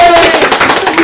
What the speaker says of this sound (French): On peut applaudir l'entrée de Hugo.